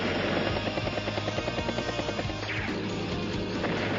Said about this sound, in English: Battlecopter strikes battlecopter.